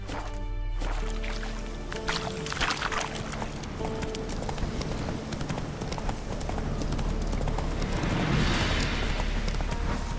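Roach the horse trotting in The Witcher 3, hooves clip-clopping in a steady rhythm over game music and ambience, fairly close and continuous, with a brief splash of water or rustle near the end.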